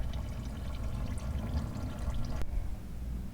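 Transmission fluid from a 2016 Mercedes GLC300 9G-TRONIC drains out of the pan into a catch container, a steady low pouring trickle heard close and fairly quiet, with a brief tap partway through.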